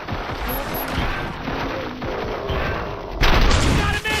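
Sustained rapid gunfire in the RoboCop Rogue City shooter game, a dense continuous barrage that swells louder near the end, mixed with game voices.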